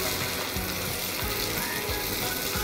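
Finely chopped tomatoes sizzle steadily in a pan with softened onions, a close, continuous frying hiss with soft bubbling, no voices over it.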